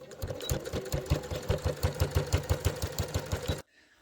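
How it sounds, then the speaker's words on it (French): A sewing machine stitches a bag handle in a fast, even run of rhythmic needle thumps, close and alone, before stopping abruptly. "Et là, tu n'hésites pas à coudre."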